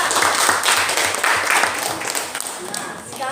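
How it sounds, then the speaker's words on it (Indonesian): A classroom audience applauding a group presentation, a dense burst of clapping that fades after about three seconds, with talk mixed underneath. "tepuk tangan buat mereka dulu"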